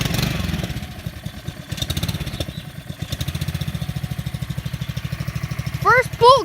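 A Honda engine cold-starts on the first pull and settles into a loud, rapid, even chugging idle, with a person talking over it.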